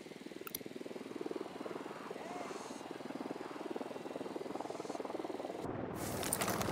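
Helicopter in Ghost Recon Wildlands, a steady rotor thrum with a fast rhythmic chop, moderately loud and constant throughout, swelling slightly toward the end.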